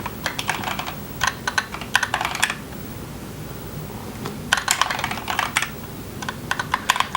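Typing on a computer keyboard comes in quick clattering bursts of keystrokes separated by short pauses, close and crisp with no talking.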